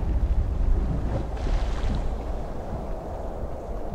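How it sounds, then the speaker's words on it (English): Strong wind roars over the open North Sea during a kite board crossing, a steady broadband rush with gusting buffets close to the microphone. "the wind's just too strong"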